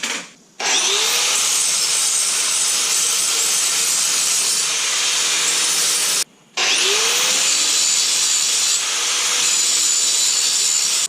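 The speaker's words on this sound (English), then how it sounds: "now we're gonna go ahead and grind these down" An angle grinder grinds metal intercooler brackets for a turbo Miata in two long, loud, continuous bursts, with a brief pause between them and a high whine as the disc spins down and up.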